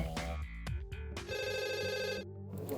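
A telephone rings at a police emergency call center, repeated electronic ring tones sounding clearly against a low background murmur.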